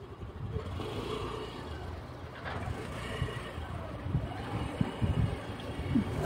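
A faint, low engine drone from an Activa scooter ridden slowly by a nervous learner, with uneven surges and bumps, no voices during the clip.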